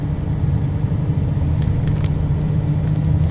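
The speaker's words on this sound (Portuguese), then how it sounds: "ele tá no freio motor, ó. Eu tô sem pisar no freio" Mercedes truck engine braking at around 1800 to 2200 rpm on a new ring road, a steady, loud low rumble that holds evenly throughout, heard from inside the cab with no talking.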